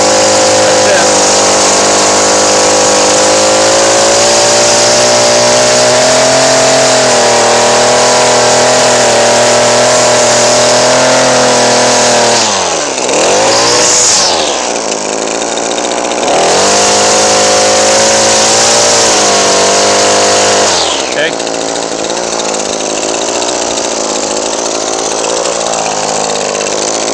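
An Edgit Pro string trimmer edger whines loudly and steadily, working along a concrete edge beside grass, its pitch dipping twice as the line bites in before recovering to full speed.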